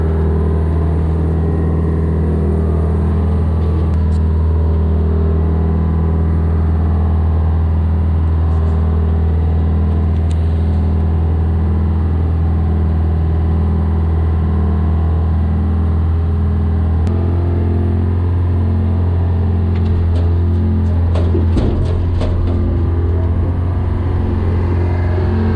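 Gradall G660 excavator engine rumbling steadily while the machine backs up, a loud close diesel drone that shifts pitch partway through, with some clanking near the end.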